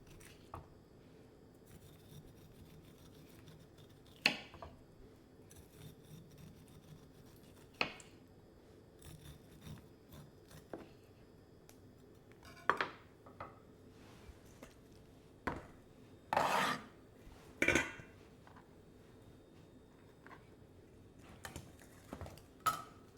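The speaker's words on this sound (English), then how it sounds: "See how close I'm cutting to the cob without getting the hard part of the cob." A knife slices kernels from an ear of fresh corn, close to the cob, in scattered quiet scraping cuts with pauses between strokes, in a calm, hushed room.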